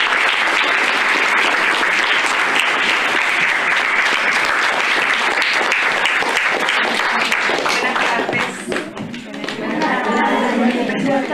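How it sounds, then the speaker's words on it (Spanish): Audience applause at a school event, sustained dense clapping from a large crowd that carries on loudly for several seconds, with voices murmuring beneath and a brief dip near the end. "Un aplauso, muchas gracias."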